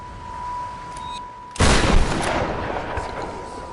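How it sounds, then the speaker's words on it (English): A single loud, close blast from a trench shotgun in the video game Tomb Raider (2013) cuts in after a quiet hum and rings out with a long, noisy decay. "The trench shotgun."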